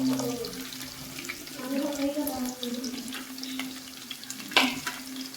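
Sliced beans and carrots frying in a pan for palak paneer rice, a soft continuous sizzle with occasional stirring scrapes and a sharper clatter near the end, steady background hum throughout.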